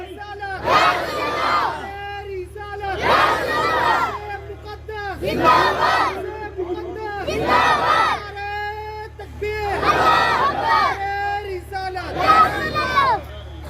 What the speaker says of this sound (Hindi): मजमे से कोई एक साथ खड़े होकर के जरा बेहतरीन नारा लगा दे ताकि ताजगी पैदा हो जाए। नारे तकबीर, सब लोग मिलकर बोले